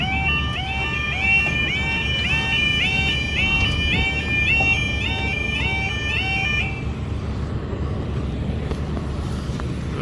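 Railway level crossing alarm at Trooperslane station in Carrickfergus, Northern Ireland, sounding loud and near as a rapidly repeating two-tone electronic warble over road and wind rumble, then cutting off about two-thirds of the way through.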